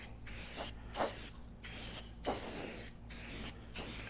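Short, close hissing bursts of spray lay a coating onto a car headlight with cardboard behind it to catch overspray, about six pulses in quick rhythm with brief gaps.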